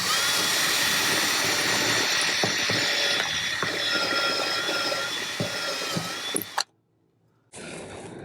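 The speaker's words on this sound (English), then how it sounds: "My plan is to drill a pilot hole" A close power drill whirs steadily with clicking and grinding bursts as it bites into an RV wall drilling a pilot hole, then stops abruptly before a brief quiet and resumed hum.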